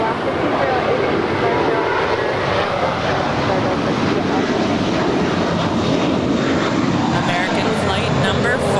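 An American Airlines jet departing LAX for JFK, a loud continuous roar of jet engines filling the air throughout, with people talking faintly underneath.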